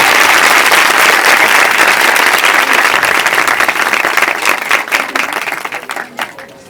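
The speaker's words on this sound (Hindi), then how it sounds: "मैं आपकी तालियों की गूंज में उनको दावत दूंगा" Church congregation applause, loud sustained clapping from a large crowd that thins toward the end into scattered individual claps.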